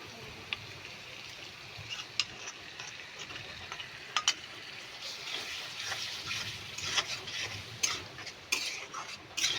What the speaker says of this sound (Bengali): 4-5 মিনিটের মতন কষিয়ে নেব